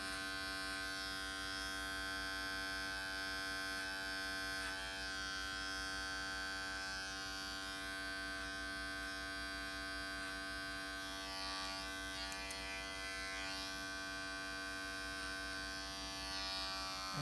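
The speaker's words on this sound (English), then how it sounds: "Now we're going to close the clipper down all the way and complete that semi-finish." An electric hair clipper buzzes steadily and up close during a men's side-part haircut, a constant motor hum lasting the whole stretch, with no talking.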